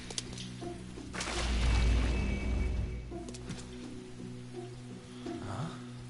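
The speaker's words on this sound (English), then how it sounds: "trying to get to school in this rain." Rain falls in the Persona 5 Royal video game, a soft, steady patter on the ground that swells to a louder wash midway, with faint tonal game sounds in the background.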